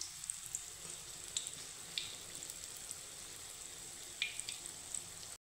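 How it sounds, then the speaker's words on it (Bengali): Mung dal ras bora fritters fry in oil over low to medium heat while being stirred, giving a faint, steady sizzle with scattered small pops and light clicks. "একটু নাড়ে চাড়িয়ে দিচ্ছি আর লাল লাল করে ভেজে নেব।"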